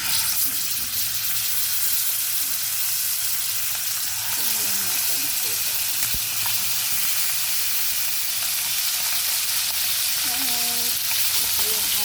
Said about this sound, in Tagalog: And then, we'll fry.